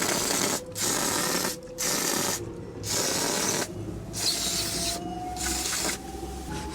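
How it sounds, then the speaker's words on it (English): Carb cleaner sprayed onto a chainsaw engine near the carburetor: several loud, close hissing spray bursts, each about a second long, separated by short gaps, with a faint mechanical whine underneath. "Spritz with the carb cleaner."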